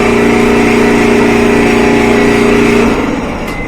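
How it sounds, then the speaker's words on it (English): A Frigidaire dryer motor spins freely with its belt disconnected, making a loud, steady droning hum that holds evenly and then winds down slightly at the end. "And you hear this loud noise. So I think the motor is just spinning and not connected to the belt."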